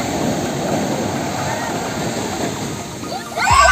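Ocean waves surge up a beach in Ilocos with a steady, loud rush of water that swells near the end, while people talk excitedly over it.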